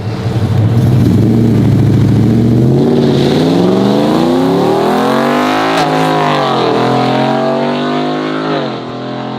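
A twin-turbo C8 Corvette on pump gas and street tires launches down a drag strip. Its loud engine note climbs steadily through the gears and eases off near the end.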